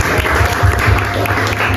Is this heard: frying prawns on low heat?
no